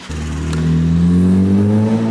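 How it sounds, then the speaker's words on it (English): A large vehicle passing on a Montreal city street, a loud steady engine drone that swells and holds as it goes by, close to the listener, with no talking. "Hold on, truck."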